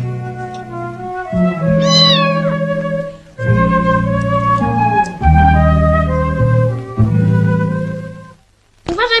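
Several kittens meow loudly and repeatedly at close range, their overlapping cries rising and falling with brief pauses between.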